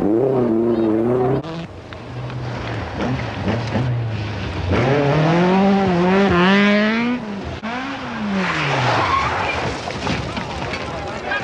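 An Audi Quattro rally car driven hard on a gravel stage in Greece, engine revving up and down through gear changes with sweeping pitch rises, loud and close, interrupted by brief drops, with a commentator talking over it.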